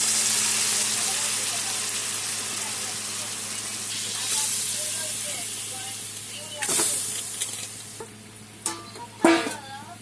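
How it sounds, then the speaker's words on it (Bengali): Boiled masoor lentils and pumpkin go into a hot pan and sizzle, a steady steamy hiss of frying that holds throughout, with bubbling and stirring bursts toward the end and a faint voice in the background. "এখন আমি সিদ্ধ করা রাখা ডালটা আর মিষ্টি কুমড়ো একসাথে ফুটিয়ে নিয়েছি, তো এখন দিয়ে দিলাম"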